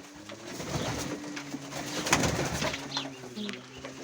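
Mykolaiv pigeons coo softly nearby, several overlapping low, throaty calls with faint rustling and a brief flutter in the background.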